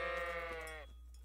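A sheep in Kingdom Come Deliverance lets out one clear, close bleat with a wavering harmonic tone that fades after about a second, followed by quiet ambience.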